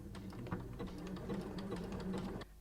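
A sewing machine stitches jersey fabric in short bursts, a steady close whirring hum with a few quick forward and back stitches that stop abruptly near the end.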